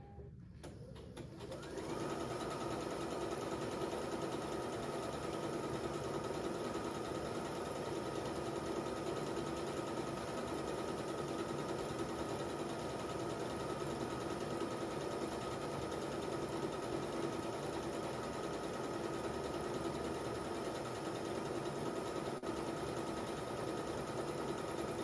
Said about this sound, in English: I'm ready to start stitching, and let's stitch down the middle